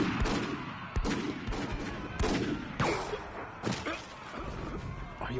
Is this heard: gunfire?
yes